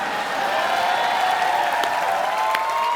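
Steady applause from a large TV studio audience welcoming a film team on a comedy show, a dense wash of clapping at constant volume throughout, with no pauses.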